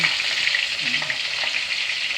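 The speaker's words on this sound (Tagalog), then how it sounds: "Magluluto kami ng isda na prito." Fish frying in a pan, a steady, close crackling sizzle with light stirring, cooked without electricity.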